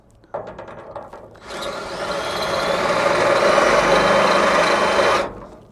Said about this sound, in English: that drill bit is dull